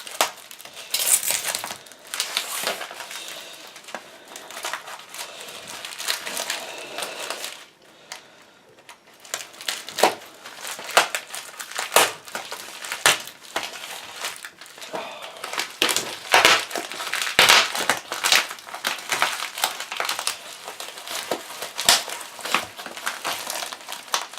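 A taped surprise parcel from America being opened by hand, with steady crinkling and crackling of packaging and tape, sharp tearing bursts and a few light clinks, close and fairly loud throughout.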